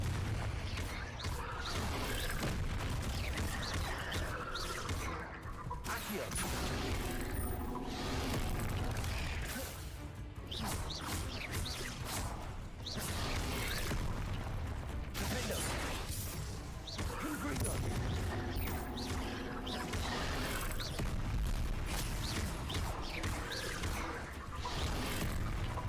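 Confringo blasting spells explode during Hogwarts Legacy combat, repeated booms and crashes in dense, loud succession over continuous game noise, with a person talking at times.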